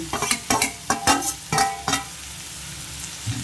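Tomato pieces added to onions frying in a pan, with clattering stirring strokes over a soft sizzle for the first two seconds, then a quieter steady sizzle.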